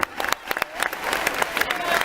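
A concert audience in Trélazé applauds, a dense wash of clapping with a few sharp louder claps, fairly close and steady throughout.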